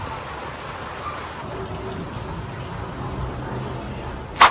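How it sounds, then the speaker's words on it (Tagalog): Heavy, unbroken rain during Typhoon Dante pours as a steady, dense hiss throughout, with a sharp, loud burst right at the end. "Sobrang walang tigil yung ulan."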